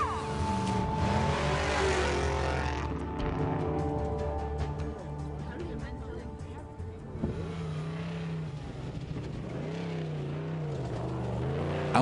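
Rival race vehicles in the Baja 1000 desert race roar past one after another, their engines loud and revving with rising and falling pitch as they pass close by.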